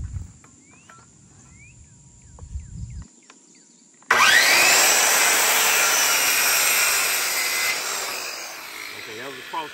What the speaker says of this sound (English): Okay, that was a cross cut. I just squared it off.